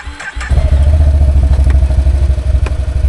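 A Can-Am Outlander XMR 850 G3 ATV on 30-inch Aztex XX tires fires up loudly in high range, then a close, throbbing low engine drone that pulses steadily as it pulls away.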